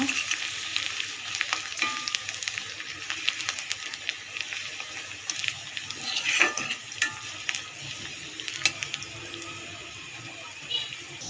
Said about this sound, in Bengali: মরিচ পেঁয়াজ একটু ভাজা করে ভেজে নেব।